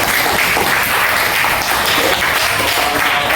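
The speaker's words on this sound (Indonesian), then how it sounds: "maka kita beri aplaus dulu sama-sama." A classroom of students bursts into dense, sustained applause, with many hands clapping together at close range for the whole stretch.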